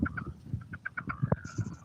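Birds and geese call outdoors with soft, quick clucking notes in an uneven rhythm, faint and somewhat distant.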